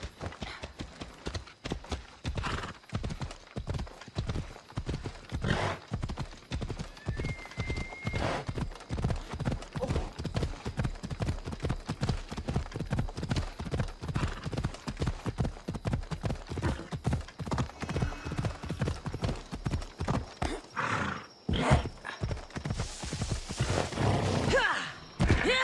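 Horse hooves clip-clop steadily and close in Assassin's Creed Odyssey, a fast, even rhythm of sharp hoof strikes running nearly the whole time, with a brief break near the end.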